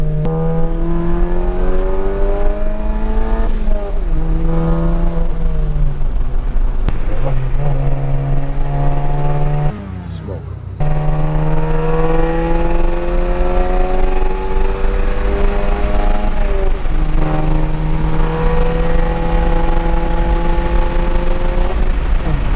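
A straight-piped VW MK7 revs hard while driving, its engine note climbing in repeated surges with brief drops between gear pulls, loud and close throughout with a short lull near the middle.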